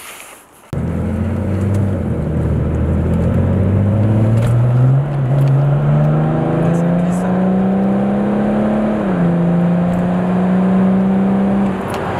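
A 400-horsepower car starts up and pulls away, its engine note rising steadily through the gears with a brief dip in pitch partway, loud and close throughout.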